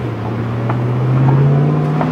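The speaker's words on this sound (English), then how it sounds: "demonstrate a little bit of the in-car sound when you got the windows down." A deep V8 engine of a Ford Mustang Roush 427R rumbles steadily from inside the car with the windows down, its low exhaust note swelling slightly as it holds a constant pace.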